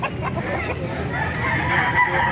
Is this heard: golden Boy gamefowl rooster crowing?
yes